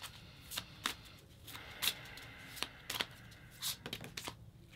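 Tarot cards are shuffled by hand during a card reading, producing soft, close riffling slaps and flicks in irregular bursts over a quiet background.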